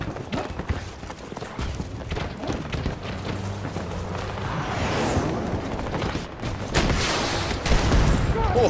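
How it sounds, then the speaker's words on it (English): Gunfire rattles in rapid bursts in the video game Battlefield 2042, with an RPG launch and explosion booming near the end amid mechanical clatter and dense battle noise. "Just check out this epic RPG shot."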